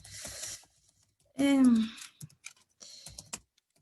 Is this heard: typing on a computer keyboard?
yes